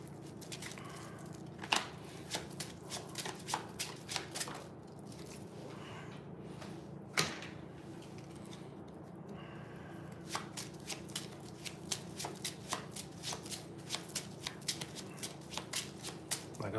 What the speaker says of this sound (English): I'm shuffling my cards right now.